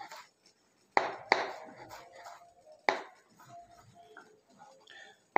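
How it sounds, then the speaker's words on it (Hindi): A knife finely chops mushroom stems on a board with sharp, sparse, irregular knocks, a few strong hits between quieter taps, close and crisp. "इसको मैं फाइन चॉप कर लूँगा।"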